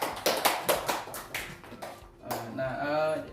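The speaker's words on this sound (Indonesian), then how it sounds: "Beri tepuk tangan ya buat Siska." Students in a classroom clap for a classmate after a microteaching lesson on polynomials, a handful of close, distinct hand claps in a loose uneven rhythm that fade out, followed by a voice speaking.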